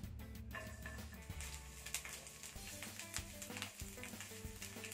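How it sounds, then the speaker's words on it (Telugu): Thinly sliced garlic frying lightly in a pan, a faint continuous sizzle with small crackles, heard alone without talk. "ఈ ఎల్లుల్లిపాయ కొంచెం ఫ్రై చేసుకోవాలి లైట్ గా"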